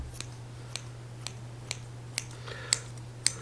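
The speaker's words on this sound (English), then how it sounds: "Grab my scissors and cut some off" Scissors snip through felting wool in a quiet room, roughly eight sharp, close clicks spaced at a steady pace of about one every half second, with a low steady hum beneath.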